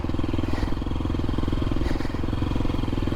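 A 2023 KTM 350 SXF dirt bike fitted with a Vortex ECU rides through trails, its engine buzzing loudly and close with quick throttle surges and a couple of brief clatters.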